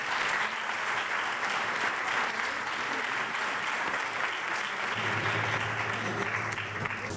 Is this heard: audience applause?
yes